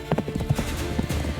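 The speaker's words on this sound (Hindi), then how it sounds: "हीर को जबरदस्ती घोड़े पे डालकर फरार हो गए" Horse hooves clatter in a quick, steady galloping rhythm, loud and close throughout the short stretch, with no talk over them.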